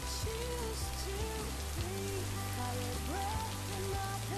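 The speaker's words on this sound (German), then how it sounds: "Also, es regnet ziemlich doll." Heavy rain pours down steadily in a video game, with a melodic tune of shifting notes playing over the constant downpour.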